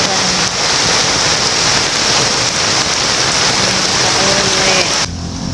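Heavy rain pours down in a dense, steady hiss for several seconds, loud and close, then cuts off abruptly near the end.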